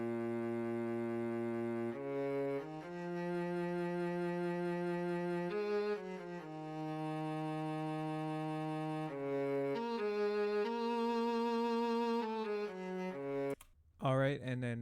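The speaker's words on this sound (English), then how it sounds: "This is what the violin sounds like though." A low, sustained violin line from a Zaytoven-style trap beat, playing long held notes that shift pitch every few seconds, loud and steady with no voice over it until a brief break near the end.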